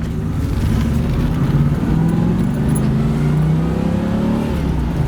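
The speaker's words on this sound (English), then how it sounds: "Plenty of pep out of that. You see it shifts nice and smooth." A 1985 Corvette Z51 with a four-speed manual transmission and overdrive accelerates, its loud engine droning steadily up close as the pitch climbs and eases with the gear changes.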